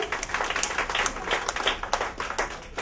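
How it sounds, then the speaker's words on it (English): An audience at a media launch event for an awards program claps briefly, a moderate patter of hands lasting a few seconds with no talk over it. "Can you please give him a round of applause?"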